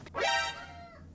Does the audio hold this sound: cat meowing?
yes